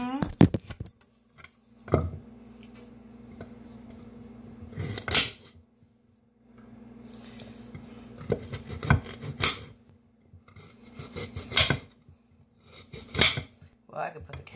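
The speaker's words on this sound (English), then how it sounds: "We're going to put the veggies in." Vegetables for a pot roast dropped and shuffled into a metal pot, several clattering bursts with gaps between, a low steady hum underneath.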